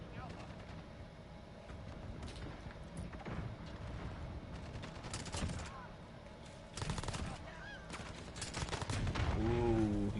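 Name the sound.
gunfire and rocket launcher in video game Modern Warfare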